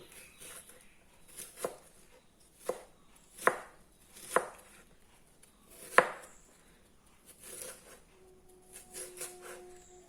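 Knife chopping an onion on a board, about eight distinct sharp chops at an uneven pace, close and fairly loud, with a faint hum near the end.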